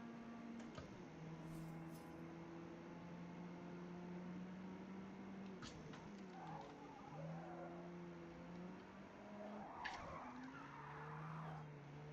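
An Opel Kadett in the Forza Motorsport racing game skids under e-brake, with sustained tire squeals sliding up and down in pitch over a steady engine drone, loud and continuous, with no talk.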